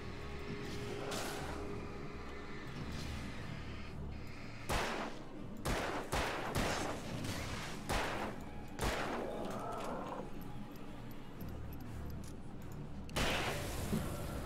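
Repeated gunshots ring out in Alan Wake, loud sharp bursts clustered in the middle and near the end over a steady ambient game backdrop, with no talking.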